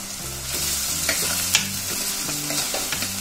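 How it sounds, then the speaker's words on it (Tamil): Curry leaves sauté in hot oil in a pan for a kuzhambu, a continuous close sizzle broken by repeated scraping stirs, with no speech. "சேர்த்து வதக்கிக்கலாங்க. இதோட கருவேப்பிலை சேர்த்துக்கலாம்."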